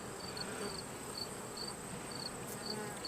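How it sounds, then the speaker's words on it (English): Honey bees from a swarm buzz around their hive in a steady, faint, continuous drone with no voices. "there they are doing their little bee thing"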